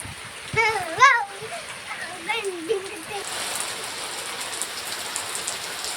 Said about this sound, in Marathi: कसा पाऊस आला नदीवरती